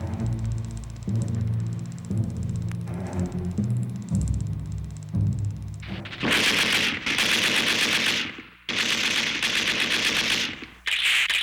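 Machine gun fire in a Korean War radio drama, with sustained rattling bursts. The loud automatic fire comes in several long volleys separated by short gaps, after a quieter opening stretch of rumbling background effects.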